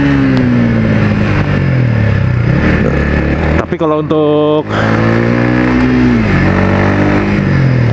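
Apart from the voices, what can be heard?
Yamaha XSR 155 revving with R25 exhaust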